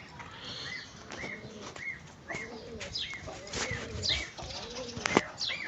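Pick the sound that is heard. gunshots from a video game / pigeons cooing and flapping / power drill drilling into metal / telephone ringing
pigeons cooing and flapping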